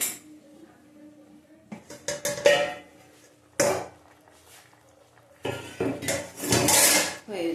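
A metal lid comes off a cooking pot of tangra fish curry with cauliflower and potato, giving sharp clanks and clatters in bursts separated by quiet gaps, loudest near the end.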